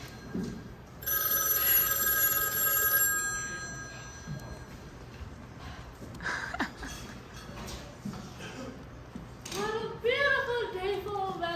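An electronic phone rings in bursts, a bright trilling tone, followed by people talking and a few sharp clattering sounds.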